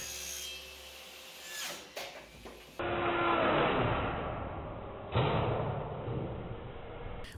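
Circular saw on a homemade table saw cutting a plywood sheet in a workshop, with a sudden loud kickback as the sheet is thrown, then a sustained broadband whirring roar and a second loud impact, no talk.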